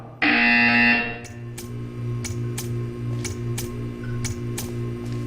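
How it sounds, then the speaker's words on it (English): A loud electronic buzzer in Portal 2 sounds for about a second, then a steady hum continues with regular faint ticks. "You will hear a buzzer."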